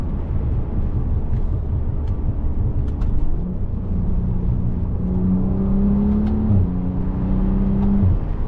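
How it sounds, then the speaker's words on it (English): BMW F10 sedan engine intake while driving, a steady low drone and whir from inside the car that rises into a brief revving tone midway before settling again. "Hear the intake"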